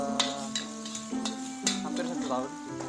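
Nasi goreng spesial is stir-fried in a pan, with a steady sizzle and repeated sharp scrapes and clanks of a utensil striking metal, loud and close, under a constant kitchen hum.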